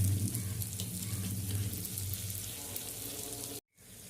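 Neyyappam sweet fritters frying in hot oil, a dense, steady sizzle with a low bubbling hum, close and continuous, briefly cutting out near the end.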